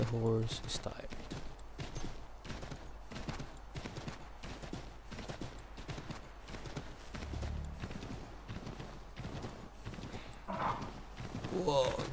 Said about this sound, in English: good thing that the horse can cross that river